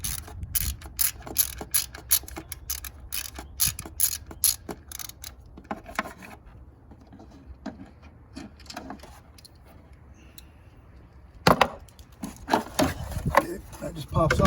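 A ratchet backs out two 10 mm bolts holding the engine cover on a Toyota Camry 2.4 engine, with rapid close clicking in bursts, a quieter pause midway, then more ratcheting.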